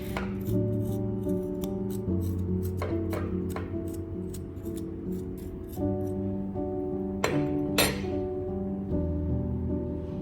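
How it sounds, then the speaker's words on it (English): A knife cuts fresh ginger into thin slices on a board for a pumpkin seed, carrot and ginger juice. It makes a run of crisp, close, irregular chopping taps, a few quick clusters and some separate strokes over a quiet background hum. "Then I slice the ginger into thin pieces"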